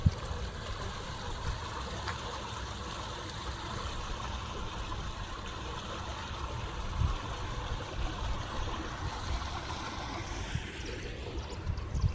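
Irrigation water flows steadily along a canal beside farmland near the Palladam–Udumalai main road. It makes a continuous, even rushing and trickling wash with no voices.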